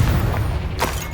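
In Hogwarts Legacy, the Confringo blasting spell explodes, a loud, dense rumbling boom with a short sharp crack near the end, all inside one second.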